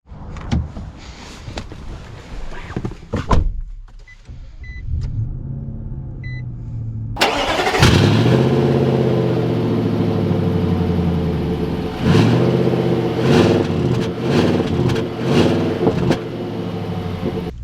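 A 2021 Nissan Titan SV pickup truck: door and cabin sounds, then the engine starts with a loud rise at about seven seconds and settles into a steady running drone with brief surges as it drives off.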